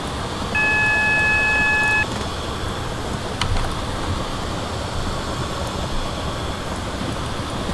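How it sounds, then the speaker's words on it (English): Automatic Warning System alarm in the Train Simulator Classic game, on a Cardiff to Cheltenham Spa run: a steady electronic beep sounds for about a second and a half, then the cab falls back to a constant rumble with a couple of faint clicks. "every time there's a speed limit, yellow light or a red light, then it will start beeping"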